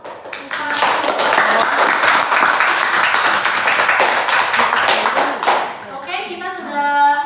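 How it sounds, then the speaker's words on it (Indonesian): A classroom group claps together in brisk, dense applause for about five seconds, loud and close, then it fades while voices talk at the end. "Tepuk tangan untuk"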